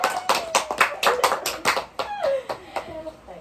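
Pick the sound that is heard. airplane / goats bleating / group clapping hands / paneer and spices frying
group clapping hands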